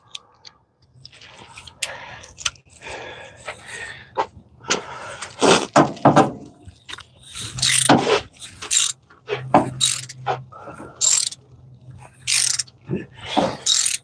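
Ratchet with a 5/8 deep socket working on the valve train of a 1966 Mustang, with repeated bursts of clicking ratcheting, loud and close, separated by short pauses.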